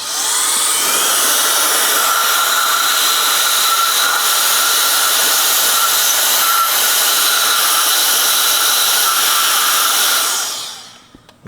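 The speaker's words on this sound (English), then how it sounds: "now just to dry it, I'm going to use this blower" A handheld air blower runs in one steady, loud, continuous rush of air for about ten seconds, drying a cleaned front or rear brake caliper on a 2019 Honda Pilot during a pad and rotor job, then cuts off abruptly.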